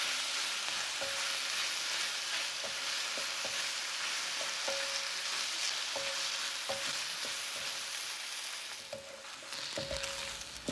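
Chopped bok choy is stir-fried in a hot pan, giving a steady, even sizzle broken by regular clinks and scrapes of a utensil against the pan.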